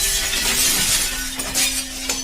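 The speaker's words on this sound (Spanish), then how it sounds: "la lancé contra el espejo y el vidrio estalló en 1000 pedazos." Mirror glass shatters after a thrown chair, a bright spray of breaking and tinkling shards that keeps falling and clinking for a couple of seconds, close and fairly loud.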